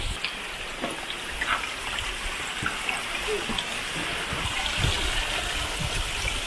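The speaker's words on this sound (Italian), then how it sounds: "in mezzo all'acqua che scorre giù così" Water rushing down a rocky mountain gully in the Orobie Alps above Val Brembana, a steady broadband wash with scattered splashes, close and continuous throughout.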